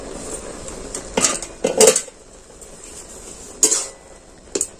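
A metal pot lid is lifted off a pot of boiled radish, with a few sharp clanks and rattles of metal, loud and close, spaced across a quiet kitchen background.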